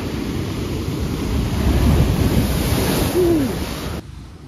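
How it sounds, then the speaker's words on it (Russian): Stormy sea waves crashing and washing onto a beach at Balaklava in Crimea, a loud continuous roar of surf with wind buffeting the microphone, cutting off abruptly near the end. "Волна бьет."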